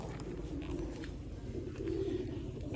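Pigeons coo softly at a humid farm beside deep water, low rolling calls repeating under a faint hum of ambient noise.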